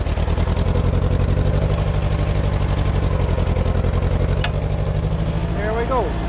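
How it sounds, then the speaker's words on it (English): A tractor engine labors steadily while plowing heavy, wet ground in a field, a loud continuous low drone with a constant throbbing pulse that never lets up; a short sharp squeal cuts through near the end. "So the tractor's working hard to turn it over."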